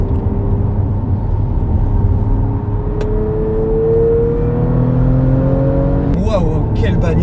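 Audi RS4 Avant 2018 engine on a racetrack at night, a loud sustained drone with rising pitch under acceleration, then a sharp shift near the end; a voice exclaims over it.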